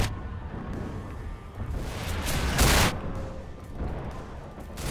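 Gunfire and explosions in Half-Life 2 (Tray Mod) during a defence against Combine forces with mines: dense, continuous shooting with heavier booms swelling near the middle, loud and chaotic without speech.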